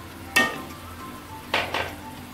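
Beef tikka stirs with spices in a pan, with a soft sizzle underneath and a few sharp scrapes and clinks of a utensil against the pan, one early and two close together later.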